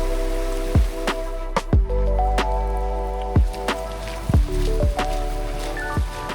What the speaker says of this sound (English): We've got the rain, which is part of the experience.